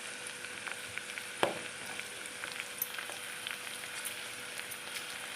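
Curry leaves crackle and sizzle in hot oil with a steady frying hiss and scattered pops, including one sharper spit near the start, close and moderately loud with no talking.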